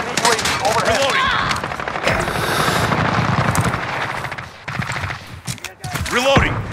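Rapid gunfire bursts in a military video game shooter, mixed with helicopter rotor drone and radio-style callouts, loud and continuous throughout with voices speaking over the action.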